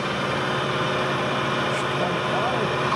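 A machine headstock runs with a steady mechanical hum and faint whine at an even, unchanging level. A voice speaks over it.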